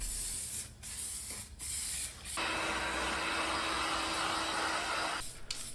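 A paint spray gun lays a heavier second coat of car paint during body damage repair, with short bursts of hiss followed by one long, steady spray pass close by.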